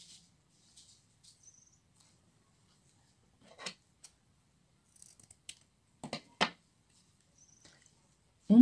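Scissors snip through ribbon pieces cut for a flower petal, with a handful of short, sharp clips spread unevenly across a mostly quiet stretch.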